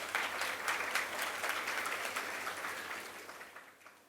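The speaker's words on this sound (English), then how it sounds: "Yes, it needs a round of applause." Applause at a school annual day for students' judo medal wins, a dense, sustained clapping from a large crowd over a low hum, strongest at first and gradually tapering off.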